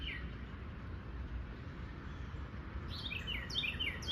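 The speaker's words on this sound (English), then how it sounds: "Listen to the birds." Birds chirp and sing outside by a back patio on a cloudy morning, a cluster of bright, fairly near calls entering over steady low outdoor rumble.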